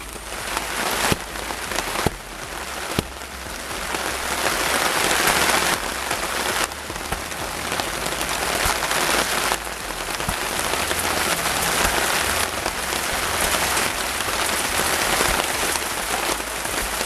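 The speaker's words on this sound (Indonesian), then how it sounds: "cuacanya kebetulan teman-teman hujan nih, makanya saya masak di tenda" Heavy rain drums steadily on a camping tent in the forest during an outdoor cooking trip. A dense, loud patter runs unbroken for the whole stretch, with scattered louder drops landing close by.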